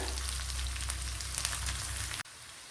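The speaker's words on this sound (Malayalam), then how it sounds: "2 നല്ല വെളുത്തുള്ളി, ഒരു 10 കൊച്ചുള്ളി, 2 പച്ചമുളക്, ഇത്രയും കൂടെ ചേർത്ത് ഒന്ന് മൂപ്പിച്ചെടുക്കുക" Oil sizzles loudly and steadily as mustard seeds, dried chillies, garlic, shallots and green chillies fry, an even close hiss that cuts off abruptly near the end.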